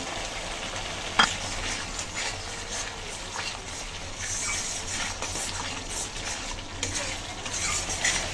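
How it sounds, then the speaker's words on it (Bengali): Spice paste with salt frying in a pan: a steady, even sizzle all the way through, with one sharp utensil clack early on and faint scraping now and then. "লবণ দিয়ে একটু হালকা কষিয়ে নিলাম"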